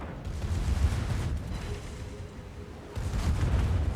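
Bismarck-class battleship secondary guns firing during a World of Warships match, a steady rumbling barrage of booming gunfire with heavier bursts at the start and end, dense and continuous without talk.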